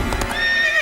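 A cartoon horse gives a short, bright neigh right after a few quick hoofbeats, close and loud, with no talking over it.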